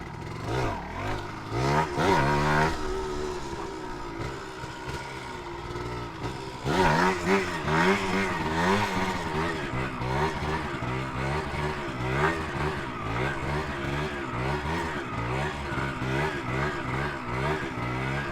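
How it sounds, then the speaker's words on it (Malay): A hard-starting motorcycle engine revs repeatedly while warming up, its pitch rising and falling in a wavering, uneven pattern, loud and close throughout. "Motor pun macam tak nak hidup lah guys"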